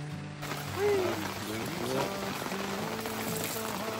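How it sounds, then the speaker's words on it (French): Steady rain falls on a campsite in a regional park, an even wash of patter with a faint voice or two briefly murmuring in the background. "Depuis qu'on est réveillé, la pluie fait juste s'intensifier."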